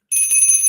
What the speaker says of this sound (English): that's what I think every time a bell like that rings